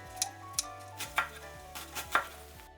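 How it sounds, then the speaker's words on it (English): Knife chopping Brussels sprouts and butternut squash on a cutting board: several crisp, separate chops spaced unevenly, close and clear, with a low steady hum beneath and no talking. "Chop the Brussels sprouts, then peel and chop the butternut squash."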